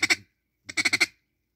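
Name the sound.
duck call imitating a duck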